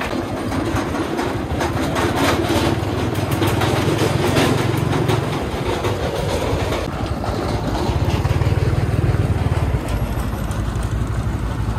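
A homemade công nông farm vehicle fitted with a car engine runs steadily, a loud continuous rumbling drone with rattling clatter and wind noise throughout, no pauses.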